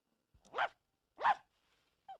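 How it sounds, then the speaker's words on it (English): A dog barks twice in quick succession, sharp and fairly close, followed by a short clipped yelp, with quiet gaps between each sound. "Skunk, you are a very bad dog"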